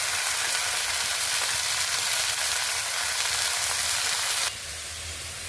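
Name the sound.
leafy greens frying in a pan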